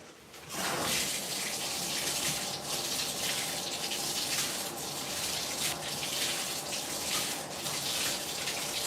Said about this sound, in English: let me go ahead and get my hot water ready